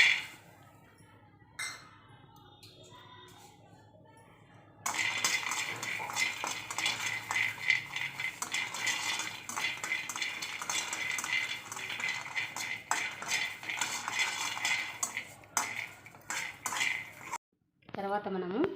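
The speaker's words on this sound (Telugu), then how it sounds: "స్టవ్ ఆన్ చేసుకొని బాండీ పెట్టుకొని స్టవ్ కాస్త మీడియంలో పెట్టుకోవాలి. ఫస్ట్ పల్లీలు వేయించుకోవాలి." Peanuts roasting in a pan on a medium stove: a quiet start, then several seconds of continuous rattling, scraping and clinking of cutlery against the pan.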